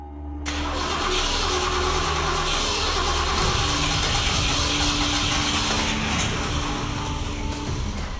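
A car's engine is cranked and sputters, then settles into a loud, continuous mechanical drone that fills the scene, with no clear catch. Close and steady throughout.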